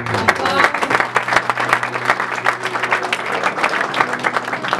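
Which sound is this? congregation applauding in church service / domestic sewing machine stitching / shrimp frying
congregation applauding in church service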